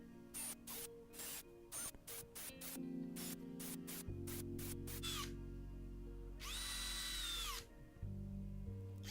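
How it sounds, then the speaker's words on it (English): A power drill whines as it bores a pilot hole into wood, with quick bursts of the trigger, then a steadier run and a pitch change as the bit cuts deeper. "drilling a pilot hole, keeping that angle consistent"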